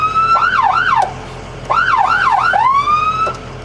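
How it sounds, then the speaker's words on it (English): Emergency vehicle siren cycling through wail and yelp modes, loud and close, with rising and falling sweeps that switch to quick warbling yelps, a brief pause midway, then resuming alone without talk. "let me just hit the siren real quick"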